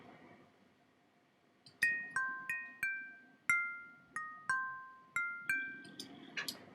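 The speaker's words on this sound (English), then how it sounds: "Sounds like this on the glass marimba." Bright, bell-like mallet notes play a short melodic phrase one by one, each ringing clean and decaying dry without echo, over a quiet background.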